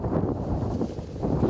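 Wind blows outdoors at a mobile catering food truck on a film set, a steady low rumbling buffet across the microphone with no voices.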